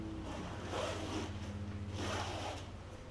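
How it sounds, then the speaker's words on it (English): The zipper of a portable insulated sauna is pulled open in two slow, rasping strokes, close by, over a faint low hum. "You got a zipper."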